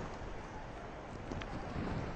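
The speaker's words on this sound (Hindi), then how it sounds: "बहुत ज्यादा तेज हवाएं और बारिश हो रही है वहां पे" Strong storm winds roar with rain at Dwarka, a dense, continuous rushing and buffeting that stays loud and close throughout, with no voices heard.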